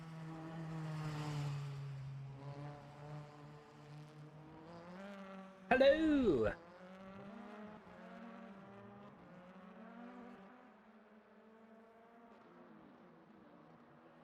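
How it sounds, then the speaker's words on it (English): Race cars of the BVTCC round at Croft circuit drone past at a distance, engines humming and rising with revs, with one brief loud burst midway; a voice speaks briefly. "You can hear the cars"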